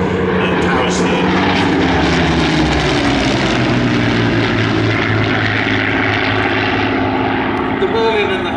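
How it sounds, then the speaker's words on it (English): A Hawker Hurricane fighter plane's early Merlin piston engine roars loudly and steadily at an evening airshow, a deep throbbing drone that slowly shifts in pitch as it passes nearby. "The Merlin and the Hurricane that you're listening to is a very early Merlin"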